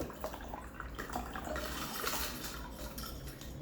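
Water is poured off an aquarium filter container holding activated carbon, splashing and trickling with light clinks of the container, close and fairly quiet with no talking.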